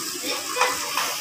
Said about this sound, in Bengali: আর এই মশলাটা আমি এবার কড়াইতে ছেড়ে দেবো।